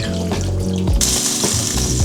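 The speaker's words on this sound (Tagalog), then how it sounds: "Okay, dagdagan pa natin ng tubig." Water pours into a pot of beef caldereta with potatoes and carrots, a loud close rushing splash that starts abruptly and continues steadily over low kitchen rumble.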